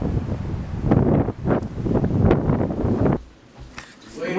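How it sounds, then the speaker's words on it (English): Strong wind gusts buffet the microphone outdoors on a stormy day, blowing tree limbs about; loud rushing roars surge and drop in waves for about three seconds before easing to a quieter lull. "Wind's blowing all the limbs out of the trees, the big gusts."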